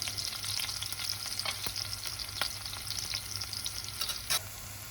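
Chopped tomato sizzling and frying steadily in a hot pan for a tripe soup sauce, a continuous bright crackle with occasional stirring scrapes, close up and alone.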